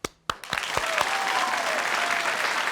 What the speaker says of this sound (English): give him a huge round of applause, Mr. Mastin Kipp